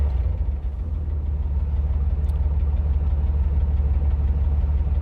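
A 400R motorcycle engine fitted with a White Brothers exhaust runs roughly at idle, a deep steady rumble with uneven knocking pulses, close and loud with nothing else heard.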